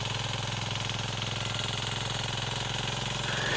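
A 13.5 horsepower power tiller engine runs steadily and close up, its loud, even mechanical chugging continuing without a break and with no voices over it.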